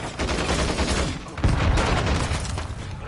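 Dense video game gunfire rattles in sustained bursts of automatic fire and explosions during a multiplayer objective match, loud and continuous with no talk over it.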